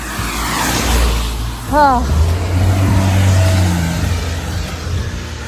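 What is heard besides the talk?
cars passing on the road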